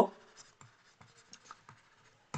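A pen scratches out a maths equation on paper in short, quiet strokes and taps, close by, with a few brief pauses between marks.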